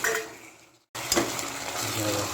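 Tomatoes and onions sauté in a pan for an onion chicken pepper curry, a close crackling sizzle that breaks off for a moment, then returns with a utensil clink and steady frying.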